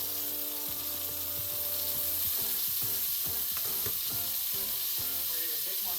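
Steak sizzling in a hot pan with butter, a bright continuous frying hiss with crackles and some pan scraping and clinks, close up and without talk.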